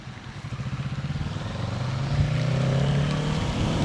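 A Kawasaki Ninja 650 motorcycle being ridden in the rain, its engine droning with a pulsing rhythm that rises into a steadier, louder hum as it accelerates.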